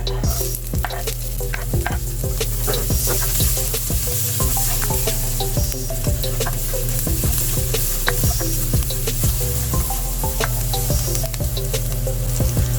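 Onion frying in the same oil already used to fry chicken, stirred in the pan; a steady close sizzle with repeated scraping stir strokes runs throughout, with no talk.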